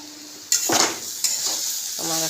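Cabbage frying in a pan in a village kitchen, with a steady low sizzle beneath two sharp scrapes of a utensil stirring, and a faint clink near the end.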